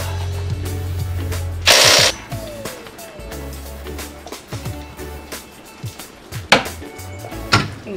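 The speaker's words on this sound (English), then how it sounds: "Now it's just a matter of unbolting lower arms, which are 17 millimeter as well." Bolts come off the lower A-arms of a Honda Pioneer 1000 side-by-side with a 17 mm tool, heard as close metallic clanks, clicks and ratcheting with a sharp hiss-like burst, irregular and nearby.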